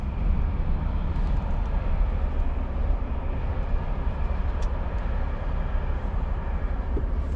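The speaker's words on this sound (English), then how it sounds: "I'm just gonna wait until that train passes before we go out" A train rumbles past at a steady, moderate distance in Norway, a continuous low rolling drone with faint wheel clicks and no voices.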